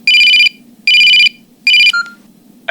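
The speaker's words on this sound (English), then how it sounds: "After work, her phone rings." A phone rings indoors: three loud, close electronic ring bursts with short pauses between them, the last one cut short, ending with a brief click and no speech.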